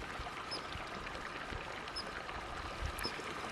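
A small stream flows beside a trail campsite, a steady, close, even wash of water that continues without a break and has no voices over it.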